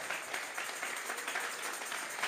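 Church congregation applauding together during a Spanish-language sermon, a steady, dense patter of many hands clapping at moderate volume throughout, with no voices over it.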